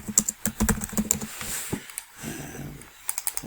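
Quick keystrokes on a computer keyboard while renaming a drawing sheet in a CAD chassis drawing: a nearby burst of irregular clicks, a short pause, then a final run of rapid taps.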